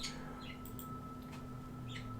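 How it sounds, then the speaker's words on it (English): A bird sings somewhere outdoors in short, faint, high chirps and trills spaced across a quiet background with a steady low hum, and no one speaks. "Oh, you listen to that bird. Why is he starting now?"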